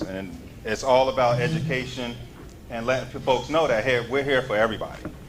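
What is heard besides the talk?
No everyday noise stands out behind the speech.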